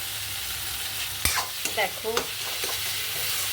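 Spice masala for a thin pabda fish curry fries in a pan with a low, steady sizzle, punctuated by a few sharp spoon scrapes and clinks; one brief word is spoken.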